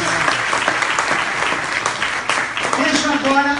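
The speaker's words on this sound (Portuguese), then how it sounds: "uma salva de palmas para Jesus." Congregation in a church breaks into sustained applause, dense rapid clapping filling the space at steady loudness, with a preacher's voice and other voices faintly over it.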